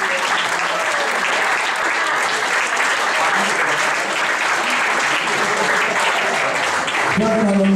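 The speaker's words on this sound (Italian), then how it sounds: "con un caloroso applauso" Sustained, warm audience applause at the fifth edition of a mandarin festival, loud and even throughout, with faint voices mixed in and a tonal sound rising near the end.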